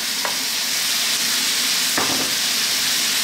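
White cabbage going into a sizzling pot of chickpea and cumin vegetable stew, a steady loud hiss of frying with a couple of short clatters as the vegetables are stirred in.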